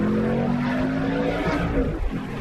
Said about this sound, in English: Let's put it on the Sport Plus and downshift it a little bit, because there's so many shifts in this car.